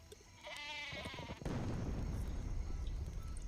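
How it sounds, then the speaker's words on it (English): The sheep weapon in the video game Worms Reloaded gives a clear, wavering bleat, then a loud, sustained rushing roar. "So, sheeps in this game are very explosive."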